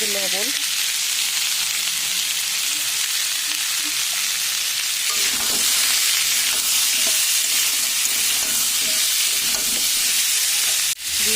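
Chopped papaya and potato sizzling loudly in a pan for a curry with dal, a continuous close frying hiss with occasional stirring scrapes.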